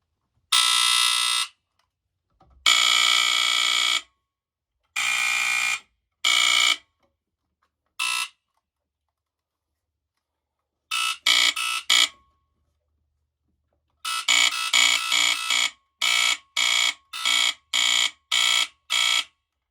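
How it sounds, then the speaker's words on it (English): Loud Firex FXW-1 second-generation mechanical horn fire alarm blasting in repeated bursts, irregular at first, then a steady rapid pulsing pattern, with silent gaps between blasts. "two instant testing mechanical horn alarms"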